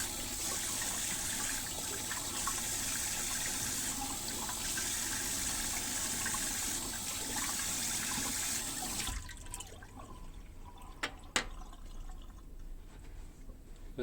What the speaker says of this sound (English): just use the water to wash away all your soap